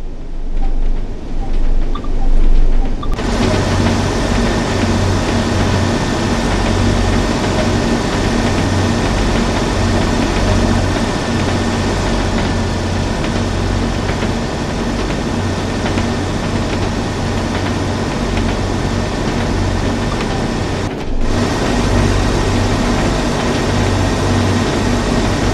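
A diesel train from Train Sim World's Northern Trans-Pennine route idles outside with a steady, loud low engine rumble and hum that runs continuously, with a brief dip near the end.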